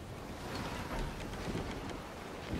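Steady rain and wind at sea in the pirate ship game Skull and Bones, a dense, even wash of hiss and low rumble with no voices, continuous and fairly faint throughout.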